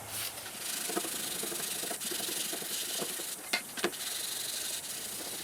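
Rosewood being sanded by hand, a continuous close scratchy rubbing with a few brief harder strokes near the end, fairly quiet and without voices.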